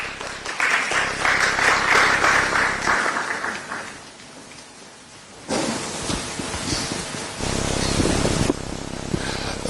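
Audience applause at a Ghanaian gathering on democracy and peace, a broad hissing wash of clapping that swells, dips in the middle and then returns loudly in uneven bursts.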